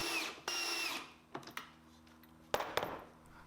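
Power drill driving screws into a wooden cornhole board, short bursts of whirring and clicking separated by quiet pauses, close by with no talking.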